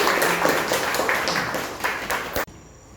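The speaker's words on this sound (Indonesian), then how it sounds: "Aplaus sekali lagi" Classroom applause for a student group after their presentation: dense, close clapping from a small crowd for a few seconds, stopping abruptly.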